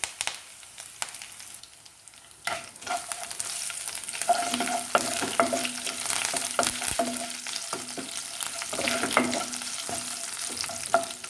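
Garlic slices and a few curry leaves go into hot oil to fry. After a quiet start, a crackling sizzle swells up, punctuated by scattered spatula taps and stirring clinks, close and moderate in level, with no voices.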